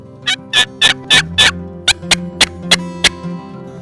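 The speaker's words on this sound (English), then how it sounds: "We got one gobbling." A wild turkey gobbles loudly, a rapid series of rattling calls repeated in quick succession, close and clear, during a turkey hunt.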